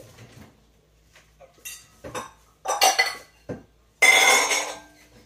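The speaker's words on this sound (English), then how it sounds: "we're going to scoop this rice out of here into a bowl" Cooked rice being scooped from an Instant Pot into a bowl, with scattered scrapes and clinks of a utensil against the metal pot and bowl, building to a louder scraping burst at the end.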